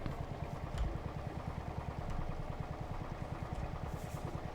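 Tractor in a farm machinery mechanic video game, repaired but with faulty steering knuckles, driven along a test track: a steady, rhythmic low engine chug with light clatter, continuous and fairly close throughout.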